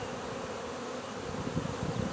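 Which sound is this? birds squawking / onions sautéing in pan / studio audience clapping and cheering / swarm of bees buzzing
swarm of bees buzzing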